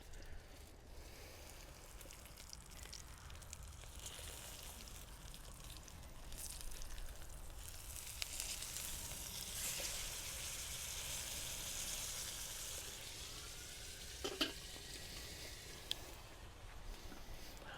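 Steak searing in a hot pan with a steady, continuous sizzle, swelling slightly as the meat is flipped, with a couple of brief clacks from the pan near the end.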